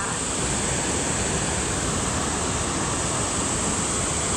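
A waterfall in Verdal, Norway roars in a steady, dense rush of falling water, loud and unbroken, with no voices over it.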